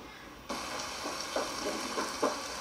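A pan of mutton tomato gravy starts bubbling and sizzling steadily, with soft pops and occasional stirring sounds, close and continuous.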